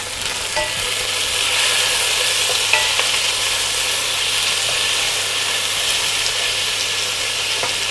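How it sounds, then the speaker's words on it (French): Onions fry in a saucepan for a braised veal stew, giving a steady close sizzle and hiss throughout with faint stirring clicks, no talk over it. "Les oignons sont à peu près revenus."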